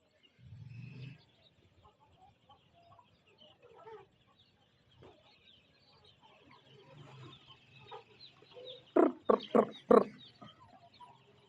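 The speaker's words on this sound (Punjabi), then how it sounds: "ਦੇਸੀ ਮੁਰਗਾ" A few faint clucks early, then a burst of loud, rapid calls from a desi rooster and chickens on a poultry farm near the end, close by, with no talking.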